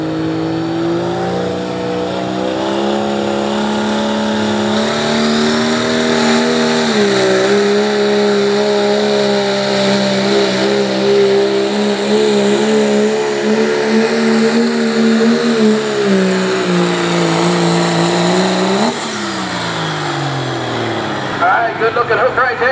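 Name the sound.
1997 Dodge diesel pickup truck pulling a sled at a truck pull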